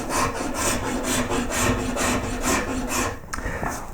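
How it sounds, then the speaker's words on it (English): Rifflers rasping over the carved surface of a wooden koi carp head, repeated rhythmic back-and-forth scraping strokes, close and fairly loud with no talk. "Around here you might need rifflers or different files. So working that surface like this."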